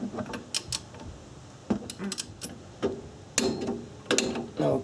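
A wrench ratchets and clicks in short irregular bursts while tightening a 14mm pinch bolt to 32 foot-pounds, close and crisp with brief pauses between strokes.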